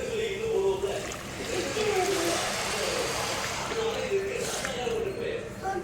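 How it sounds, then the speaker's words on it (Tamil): Water poured into rice in a pot for mint coriander pulao, a steady splashing, sloshing pour lasting the whole stretch at moderate level, with faint talk mixed in. "கொஞ்சம் அரிசியை போட்டு கிளறி விட்டதுக்கப்புறம் தேவையான அளவு தண்ணி விடணும்."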